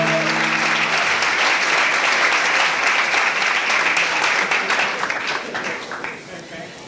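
A pageant audience claps loudly for contestants at a 1988 community event. The applause is a sustained, thick roar of many hands, with a brief tonal sound at the very start, and it slowly thins and fades in the last seconds.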